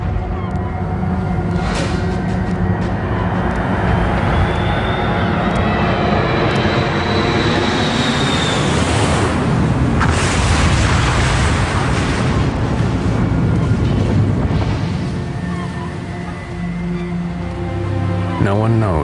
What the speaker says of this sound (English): residents of Peggy's Cove hear a deafening explosion